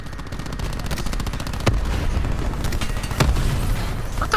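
Video game gunfire with a Cordite weapon, a dense rapid stream of automatic shots with a couple of louder booming reports standing out, continuous and close.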